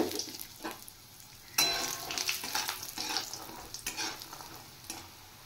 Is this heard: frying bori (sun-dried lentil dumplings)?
yes